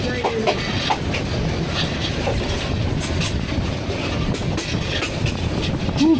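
A night express train runs through dense jungle between Mymensingh and Dhaka, with branches brushing the carriages close by; a steady rumble and rattle of the wagons fills the whole stretch with no voices.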